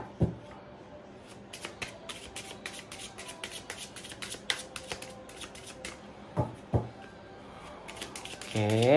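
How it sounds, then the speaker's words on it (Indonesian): Tarot cards shuffled by hand in a run of dense, papery riffles and flicks that go on throughout, with sharper slaps near the start and end and a few quiet sounds in the background. "Oke, kita shuffle kartu karakter"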